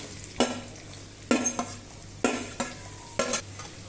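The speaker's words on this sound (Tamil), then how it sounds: "ஒரு பெரிய வெங்காயம் பொடியாக கட் பண்ணி வச்சுருக்கேன் அதை சேர்த்துக்கலாம்" Chopped onion and capsicum sauté in a kadai, with four sharp scraping stirs of a spatula at regular intervals over a soft, continuous sizzle.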